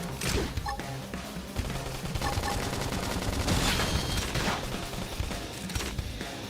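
Heavy gunfire fills a battle in Xenoblade Chronicles X: Definitive Edition, a dense, continuous barrage of rapid shots layered with mechanical clatter and combat effects, loud throughout.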